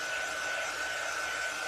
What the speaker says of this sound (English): I like to take my dryer and just dry this.